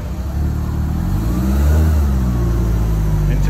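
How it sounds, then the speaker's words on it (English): A Lancia Delta accelerates past nearby on a street in Alderley Edge, its engine note rising and holding loud and strong before fading slightly at the end. "Lancia Delta."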